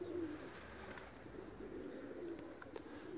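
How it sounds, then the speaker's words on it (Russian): Pigeons cooing outdoors in low, soft repeated coos with faint wing flaps and distant chirps, steady over a quiet background with no talking. "буду смотреть, что будут делать голуби"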